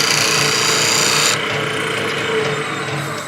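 A wood lathe tool takes light cuts on a spinning wooden sphere, giving a continuous rasping scrape over the machine's hum. The cutting stops abruptly partway through, leaving the quieter whir of the lathe running.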